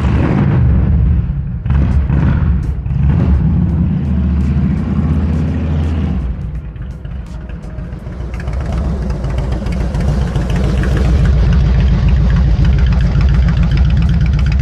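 A Harley-Davidson motorcycle engine runs loud and close throughout, with a deep, steady low rumble that roughens and swells as the throttle opens partway through, with no voices.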